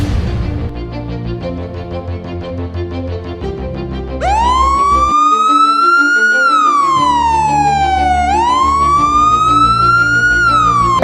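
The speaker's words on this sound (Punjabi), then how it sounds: "ਅੱਛਾ ਸਾਇਰਨ ਵੀ ਵੱਜਦਾ ਹੈ" A siren gadget from a mobile accessory shop wails loudly in rising and falling sweeps, starting after a few seconds and cycling twice, with no talking over it.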